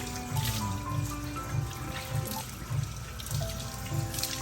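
Hot water running from a tap, a continuous close stream with trickling and splashing under a regular low thumping beat and faint tonal background sounds, no clear talk.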